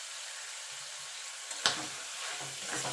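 Fish oil fries with chili powder and spices in a pan, a faint steady sizzle with one brief louder spatter partway through and soft stirring after.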